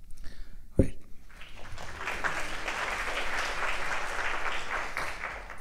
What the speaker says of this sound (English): applauding our panelists is a very cathartic experience